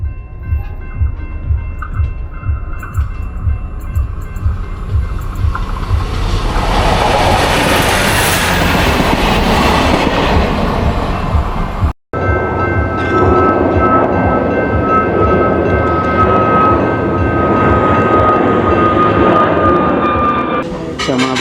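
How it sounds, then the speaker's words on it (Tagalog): A train rumbles and rattles past nearby in Faro, Portugal, with steady clickety-clack, loud throughout, with a brief cut midway and a high whine afterward. "Uy, andyan na yung tren."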